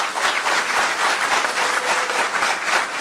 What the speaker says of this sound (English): I want y'all to give them a round of applause.